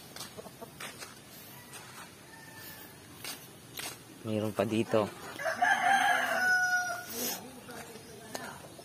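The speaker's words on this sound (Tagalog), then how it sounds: "ang dami pa rin yung manok" Chickens, including gamecocks, cluck and a rooster crows loudly nearby in a rural yard, with scattered bird calls and a brief spoken remark.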